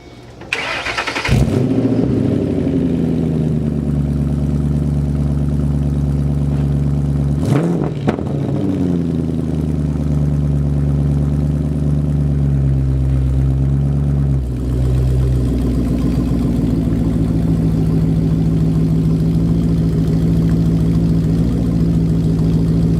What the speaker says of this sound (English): And the exhaust is dumped for you guys that don't know that.